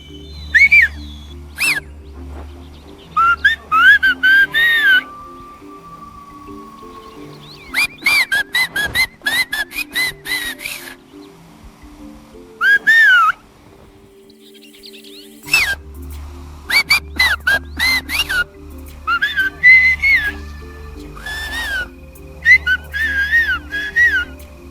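Mazatec and Chinantec people of Oaxaca, Mexico, trade phrases of whistled speech: loud, close, pitch-gliding whistles in rapid rhythmic bursts, with brief silences between exchanges.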